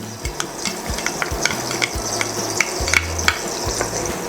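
Honey-mustard sauce for Korean fried chicken bubbling at a full boil in a pot, with mustard going in: a steady crackling sizzle and stirring scrapes. Thumps and small clinks come through now and then, with no talk.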